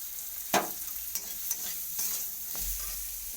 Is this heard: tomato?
yes